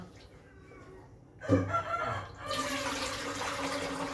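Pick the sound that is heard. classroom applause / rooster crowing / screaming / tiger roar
rooster crowing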